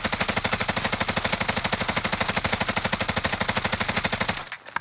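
A Bruen Mk9 rifle fires in a video game, one sustained burst of rapid, evenly spaced shots at a fairly slow automatic rate. The shots are loud and close, and the burst stops abruptly near the end.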